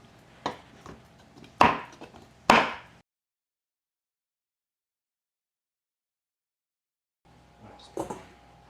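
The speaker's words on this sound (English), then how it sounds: "I'm chopping it up just so it could melt a little faster" A few sharp knife chops through chocolate on a cutting board, then a pause of silence before more light chopping.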